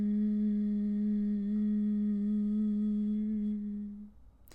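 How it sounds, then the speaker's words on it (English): A person humming a steady closed-mouth om during bee breath, one long low drone that holds evenly for about four seconds before fading out, close and clear with no other sounds. "So you're humming an om."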